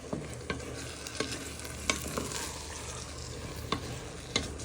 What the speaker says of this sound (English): Now you want to add in a bit of oyster and sauce. Now you give that a little bit of a stir in.